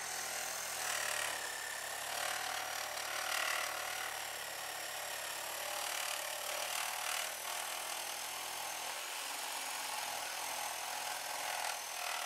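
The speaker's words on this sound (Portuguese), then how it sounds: "aqui depois tiramos a serra." A saw works through wood while a decorative tray is being made, giving a steady, continuous rasping hiss that stays fairly even throughout and has no speech over it.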